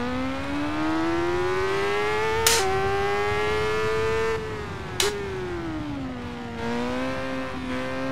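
A motorcycle engine in the Assetto Corsa racing game on the Nürburgring, revving steadily and climbing, then jumping in pitch with abrupt blips on aggressive downshifts, a loud whining tone with no talk.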